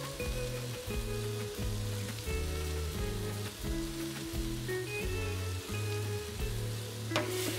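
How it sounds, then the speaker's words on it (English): Flour being stirred into mushrooms cooking in a pan gives a steady, close sizzle with soft scraping. Background music plays throughout and nobody speaks. "sprinkle the flour on the mushrooms and just stir it around a little bit to get it to cook"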